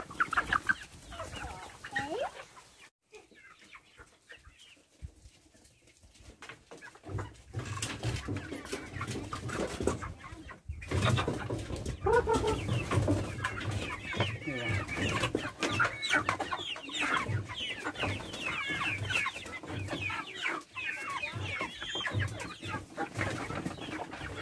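A flock of farm chickens clucks busily while following a feed container, a close, lively chatter of overlapping clucks and calls that quiets briefly before rising again.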